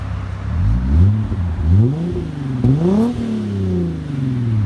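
2015 Hyundai Genesis 3.8 liter coupe with a CNT dual exhaust, revved repeatedly in short deep surges that climb and fall back to a low idle, heard close and loud.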